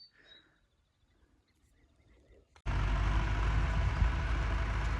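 A tractor sowing alfalfa in a vegetable plot starts up after a few seconds of quiet with faint birds, then a steady, fairly loud engine drone runs on continuously.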